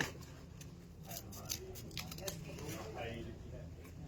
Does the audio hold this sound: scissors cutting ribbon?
yes